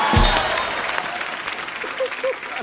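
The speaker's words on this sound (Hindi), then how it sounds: "ठोको ताली" Studio audience of a Hindi TV comedy show applauding, a short burst of clapping and cheering that starts loud and thins out, with a voice or two heard faintly underneath.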